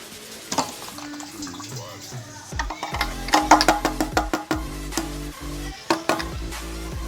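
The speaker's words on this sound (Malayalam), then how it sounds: "ഇന്ത്യൻ ഓയിൽ ഞാൻ ഇതിലേക്ക് ഒഴിക്കുകയാണ്." Indian Oil petrol poured into a container, a trickling, splashing stream of liquid that starts softly and then grows into louder gurgling pours with brief pauses, close by and with no talk over it.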